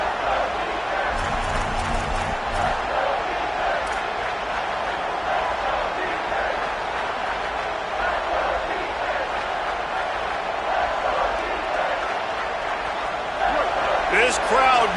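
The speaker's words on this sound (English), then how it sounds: "This crowd knows when to bring it." Loud, steady roar of a college football stadium crowd during a third-and-long play, a dense wash of cheering that holds for the whole stretch and swells slightly near the end, with a commentator's voice over it.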